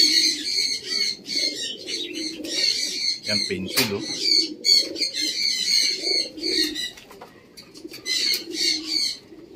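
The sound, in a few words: pigeons cooing in a loft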